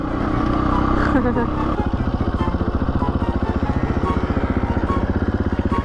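A supermoto motorcycle engine, either a KTM 450 EXC-F or a Husqvarna 390 SMC R, runs loud and close, its pulsing rev settling into a rapid, steady rhythmic chug.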